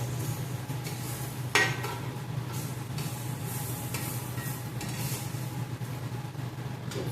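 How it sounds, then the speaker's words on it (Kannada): Elephant foot yam slices fry in a pan, making a steady, broadband sizzle under a low hum with a soft clink of utensil against the pan early on. "ಇದನ್ನು 2 ಸೈಡ್ ಫ್ರೈ ಮಾಡ್ಕೊಳ್ಳೋಣ."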